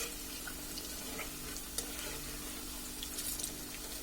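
Cabbage pakoras fry in a pan with a soft, steady sizzle, joined by a few quiet clinks and stirring scrapes, close but faint, with no talk.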